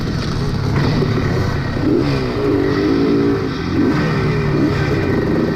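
A vintage motocross motorcycle engine revs hard during a post-vintage race, loud and close, rising and falling through gear changes with a distant engine behind it.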